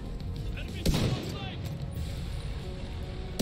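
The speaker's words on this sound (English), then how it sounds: "I put 100 rounds into that dude" Rapid automatic gunfire from The Division 2 rattles on steadily throughout, with louder bursts near the start and end, while a voice talks over the shooting.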